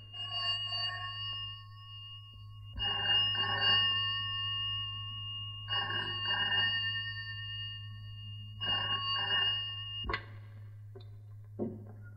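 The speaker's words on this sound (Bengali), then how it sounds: "এখন আবার ফোন করে কে?" A telephone rings in a quiet room with three spaced bursts of rapid bell trilling separated by silence, followed by a clatter as the receiver is picked up.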